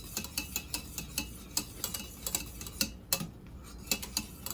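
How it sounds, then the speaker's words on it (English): Whisking rum in a pan over medium heat gives a steady run of quick, light metal taps and scrapes, regular like ticking, close by with no voices. "I'm cooking the rum now. And all I have to do is just whisk"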